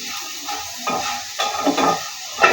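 A vegetable bhaji frying in a pan gives a close, soft sizzle broken by scraping, clattering stirs of a spatula against the pan over a couple of seconds.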